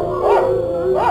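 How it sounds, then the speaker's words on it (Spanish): Dogs howl in long, wavering, rising and falling cries, loud and close, with no talk over them. "Los perros estuvieron aullando durante esos 7 días."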